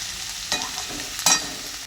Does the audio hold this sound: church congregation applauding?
no